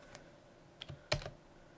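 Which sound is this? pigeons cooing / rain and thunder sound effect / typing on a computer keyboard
typing on a computer keyboard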